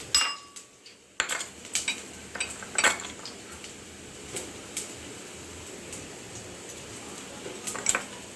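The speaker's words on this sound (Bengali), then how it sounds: "এটা সামান্যভাবে নেড়ে চেড়ে নেব।" Ginger is stirred in a cooking pan, producing close metallic scrapes and clinks of a utensil against the pan in irregular bursts, with a faint steady hum beneath.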